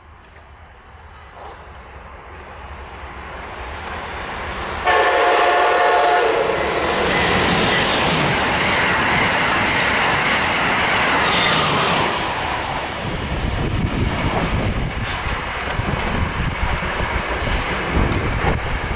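An Acela high-speed train approaches and roars past, its horn sounding as the rush of air and wheel clatter peak, then fade into rumbling.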